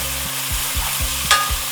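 Finely chopped green chillies and small shallots frying in oil in a pan on low heat for a Tamil elephant foot yam masiyal, a steady close sizzle with rhythmic scraping stirs about every half second.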